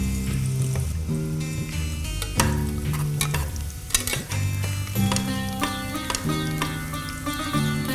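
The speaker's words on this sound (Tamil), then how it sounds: "இப்போ நல்லா ஃப்ரை ஆயிருச்சா?" Cinnamon, cardamom and cloves frying in hot ghee in a pan, a steady close sizzle with stirring scrapes and clinks throughout, no talking.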